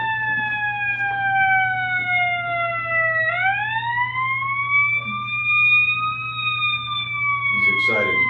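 Wailing siren of an emergency vehicle at a fire, a steady tone slowly falling then rising again in pitch over a constant low engine drone, with brief noise bursts near the end.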